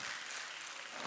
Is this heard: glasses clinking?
no